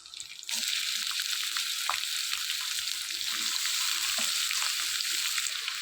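Ivy gourd pieces hitting hot oil and setting off a sudden, loud, dense frying hiss that holds steady and close, with a few faint stirring ticks underneath.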